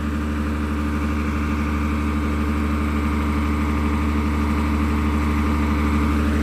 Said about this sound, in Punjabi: ਚੱਲੀ ਜਾਂਦਾ ਕੰਮ ਜਨਰੇਟਰ ਤੇ